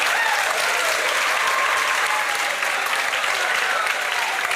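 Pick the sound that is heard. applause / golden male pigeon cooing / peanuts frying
applause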